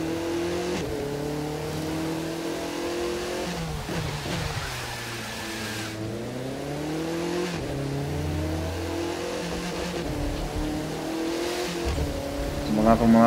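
An Audi TT RS in The Crew 2 racing game revs hard through repeated gear changes, its engine note climbing and dropping, with a brief tire squeal near the end and someone talking over it.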